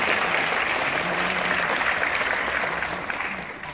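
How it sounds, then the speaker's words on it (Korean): An audience claps steadily at a taekwondo demonstration team festival held in a youth culture center hall, a thick, continuous roar of applause that slowly fades toward the end. "박수 부탁드리겠습니다."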